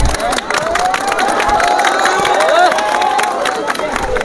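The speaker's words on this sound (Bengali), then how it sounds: "এদের জন্য একটা মারে জোরসে হাততালি।" A crowd at a Chhau dance event applauds and cheers loudly for the winning dancers, with clapping mixed into shouts and excited voices that carry throughout.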